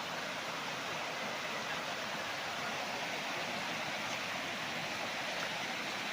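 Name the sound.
river water flowing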